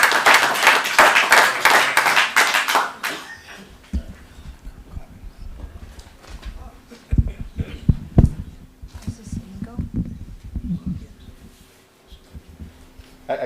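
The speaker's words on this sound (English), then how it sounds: "You've both had a chance to clap at each other's things. Please limit clapping." Audience at a town finance and warrant commission meeting breaks into a burst of clapping that lasts a few seconds, then fades into murmuring, thumps and voices in the room.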